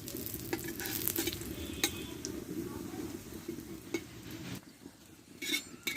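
Paratha made from a plain flour dough frying in a little oil in a pan, a steady close sizzle with scattered clinks and scrapes of a utensil turning it.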